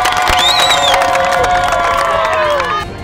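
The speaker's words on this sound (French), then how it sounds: "Nous applaudissons pour Katumbi." A crowd at a political rally for Katumbi in Tanganyika cheers and shouts, with high whoops and voices rising over a busy roar, close and loud for a few seconds before easing off.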